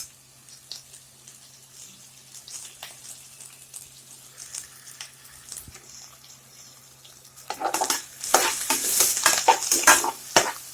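Potatoes frying in a pan for a South Indian potato roast, with quiet stirring and scraping for most of the time, then a louder burst of sizzling and crackling near the end.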